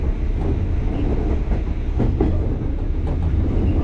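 A train rolling through or into a small rural station on a single-track line near Hiroshima, with a steady loud rumble and rhythmic clickety-clack of wheels over rail joints, heard close up and without talk.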